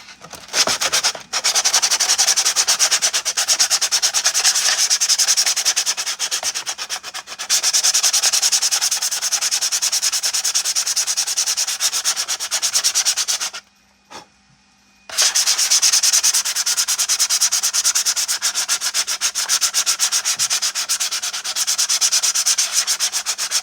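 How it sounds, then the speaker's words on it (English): Hand sanding of clone trooper armor with coarse 80 grit sandpaper, a loud, close, continuous rasping scrub that goes on with brief pauses, including one longer break near the middle. "This is an 80 grit. I want something really rough to just take this stuff down real quick."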